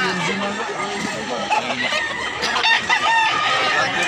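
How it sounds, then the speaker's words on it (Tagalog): Chickens and roosters at a rural poultry sale in Mantalungon, Barili, Cebu, crowing and clucking in a dense, continuous chorus, with someone talking over the birds. "Pindot sa mga manok ko."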